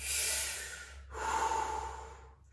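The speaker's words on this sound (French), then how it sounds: "ce sera une inspiration et une expiration par la bouche, comme ça" One slow, close breath drawn in through the mouth, a brief pause, then a long audible exhale through the mouth, soft and airy with no talking.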